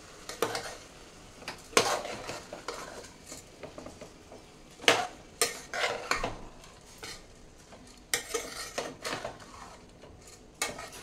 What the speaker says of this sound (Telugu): ఇది మిక్స్ చేసుకుందాం ఇప్పుడు.